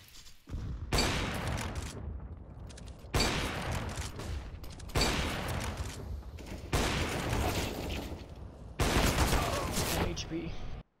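Several bursts of heavy gunfire in CS:GO arrive in roughly evenly spaced blocks separated by short gaps, loud and sharp, with a player's voice occasionally audible underneath.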